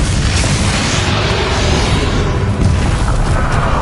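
Spell explosions from a Hogwarts Legacy battle against Ranrock, with Confringo, Incendio and Bombarda blasts merging into a loud, continuous roar of booms and crackling impacts that keeps going without a break.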